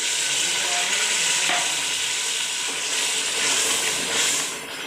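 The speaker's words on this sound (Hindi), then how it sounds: "ये गर्म किया हुआ पानी 1 गिलास में इसमें डाल रही हूँ" Hot water poured into a pan of kala chana curry sets off a loud, continuous sizzling hiss that rises and falls slightly in steady waves, with no voices over it.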